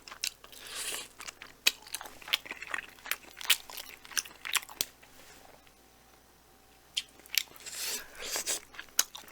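Someone bites into Hoo Chicken teri-garlic fried chicken up close, with sharp crunchy bites followed by wet chewing in an uneven rhythm and a quieter stretch in the middle.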